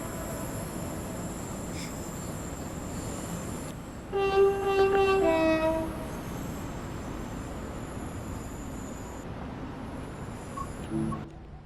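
A freight diesel locomotive in Train Sim World 6 rumbles steadily at a station, sounding a loud two-tone horn blast partway through over the continuous engine drone.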